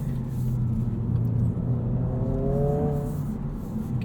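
A 2022 Honda Civic Si Sedan engine with active sound management revs up inside the cabin, a low steady drone rising into a climbing whine midway before settling back, fairly loud and without talk.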